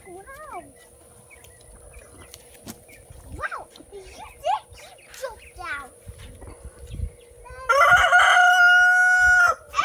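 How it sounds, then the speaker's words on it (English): A rooster crows loudly near the end, a long strained call, after scattered chirps and quiet voices of people talking nearby. "That rooster is making a lot of noise."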